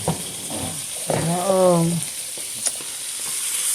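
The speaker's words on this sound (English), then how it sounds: "I'm putting the butter, letting it melt" Butter melts and sizzles in a pan for Alfredo sauce, a steady close frying hiss with a brief voice rising over it midway.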